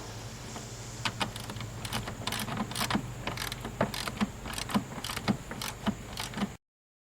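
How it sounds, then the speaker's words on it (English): Bolts on a 1993 Chevrolet Silverado K1500 brake master cylinder are tightened with a ratchet, giving a run of quick, close metallic clicks in uneven bursts before cutting off abruptly. "Now I'm tightening up these bolts,"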